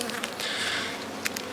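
Honeybees buzzing around an open hive during a late-season inspection, a soft steady drone with a few individual bees passing close by, no talking.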